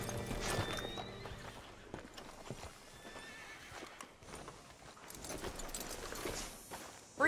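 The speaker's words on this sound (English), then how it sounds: "Hitch your horse up here." Hooves clip-clop at an easy walking pace in Red Dead Redemption 2, with a horse snorting and faint jangling of tack, all fairly quiet and steady.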